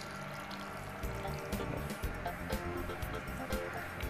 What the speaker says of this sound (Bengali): জল দাও অল্প পরিমাণ মতো মতো গ্রেপটা ডুবে যায় এরকম পরিমাণ মতো জল দেবে